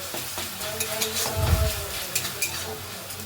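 Curry being stirred in a pan after a little turmeric goes in, a steady sizzle with soft scraping and stirring strokes, louder for a moment mid-way, no talking.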